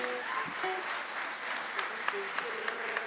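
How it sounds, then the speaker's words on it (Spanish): An audience applauds a folk parranda band in Gran Canaria, a moderate wash of clapping with a few sharper individual claps and faint musical tones beneath. "Fuerte el aplauso para ustedes."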